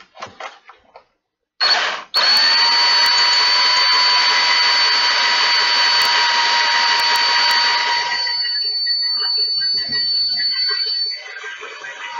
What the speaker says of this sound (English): we're gonna keep drilling since we got enough of them in here